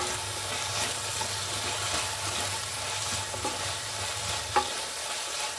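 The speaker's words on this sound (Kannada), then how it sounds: "ಇದೊಂದು 2 ನಿಮಿಷ ಫ್ರೈ ಆಗಬೇಕು" Turmeric and spices fry in a pan for a masala rice dish, giving a steady, close sizzle with faint stirring scrapes throughout and no voices.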